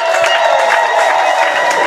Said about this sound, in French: Si vous pouvez l'applaudir encore une fois